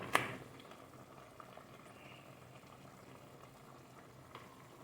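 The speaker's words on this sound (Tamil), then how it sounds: "இப்போ பாருங்கள் நல்லா கொதி வந்துடுச்சு" Egg omelette gravy bubbling in a pan on low heat, a faint steady simmer after one brief knock at the start.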